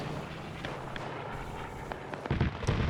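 Gunfire from a strafing aircraft in a WW2 D-Day PvP game, a burst of sharp cracks and thuds building loud toward the end over a steady rumbling background.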